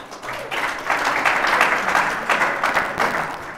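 A burst of applause swells from a crowd at a presidential candidate's speech, many hands clapping together, building quickly and holding at moderate loudness.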